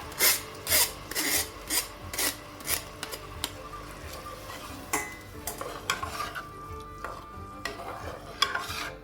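Ada pieces go into boiling jaggery syrup for Onam ada pradhaman payasam, with rhythmic stirring and scraping strokes against the pan over a soft bubbling sizzle, close and clear with no talking.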